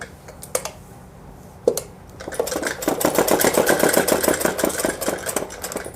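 A sewing machine stitches a simple frock for a five-year-old girl, starting with a few separate clicks and then running in a fast, steady, close mechanical chatter of needle strokes.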